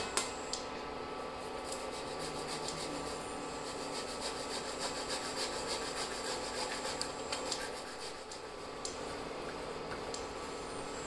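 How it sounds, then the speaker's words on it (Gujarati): Boiled, peeled sweet potatoes rubbed against a hand grater for a sweet potato kheer, giving a steady close rasping scrape that runs on without pause. "તો એને એક છીણી વડે છીણી લઈશું"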